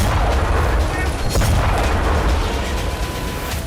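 A missile strike explosion from an attack on the Black Sea Fleet headquarters in Sevastopol, a loud sustained rumbling boom with a sharp crack partway through, dense low-end roar filling the whole stretch.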